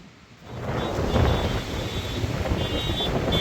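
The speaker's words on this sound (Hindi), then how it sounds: "अभी आप देख सकते हैं कि बहुत तेज़ हवाएं हैं।" Strong stormy wind roars outdoors in hilly Sundarkhal country, battering the microphone with a steady, loud gusting rush that swells after a brief quiet start.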